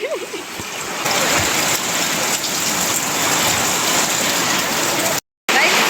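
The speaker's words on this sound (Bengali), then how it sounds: "এত বৃষ্টি মানে মুষলধারা বৃষ্টি হচ্ছে" Heavy torrential downpour outside a temple at Rajbalhat, a dense, steady roar of rain hammering surfaces close by, continuous throughout apart from a brief dropout near the end.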